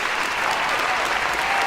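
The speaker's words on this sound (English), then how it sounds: "So, a round of applause, ladies and gentlemen." Audience applause fills the room, a steady dense wash of many hands clapping at close range, holding loud and even throughout with no talk over it.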